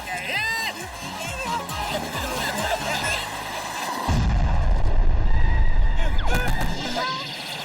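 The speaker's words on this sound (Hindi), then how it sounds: "इन मिसाइल से मेरा पीछा छुड़वाओ," Cartoon missiles explode in a loud, dense burst that swells midway and rumbles on, over a busy animated scene with music and excited talk.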